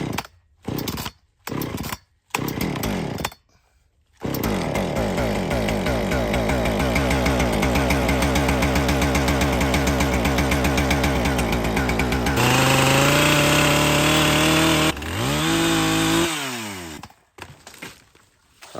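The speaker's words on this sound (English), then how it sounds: "This wood shifted as I was cutting this log and pinched the blade really bad." A chainsaw cuts through a log with a pinched, dull blade that cuts slowly: short revving bursts with pauses, then a long, loud, steady cutting roar, one sharper high-revving stretch and a final rev that dies away.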